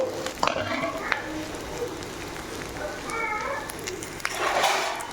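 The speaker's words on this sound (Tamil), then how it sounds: "இப்போ நல்லா வதங்கிடுச்சு" Okra sautés in a pan for a gravy, giving a continuous moderate sizzle with occasional stirring scrapes. Faint voices murmur underneath.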